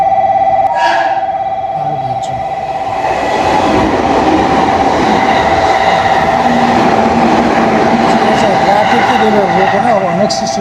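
A train stands at a railway station in Japan, with a steady tonal hum and rumbling rail noise running throughout at close range while people talk over it.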